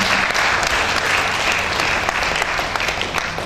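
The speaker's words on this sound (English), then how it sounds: "Can we do a round of applause for the gentleman" A conference audience claps steadily for a speaker, the dense applause filling the room at an even level from start to finish.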